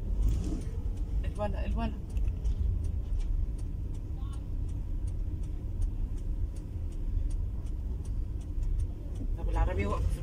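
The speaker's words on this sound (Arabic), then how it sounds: "دوسي بنزين." A car with a learner driver at the wheel rumbles steadily with a low engine drone and faint regular ticking, while people talk over it inside the cabin.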